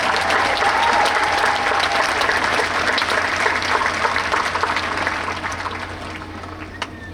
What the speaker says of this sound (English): How about one more round of applause for that?